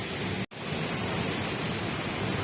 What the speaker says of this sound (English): Rio La Paz waterfall, right? Can you hear that?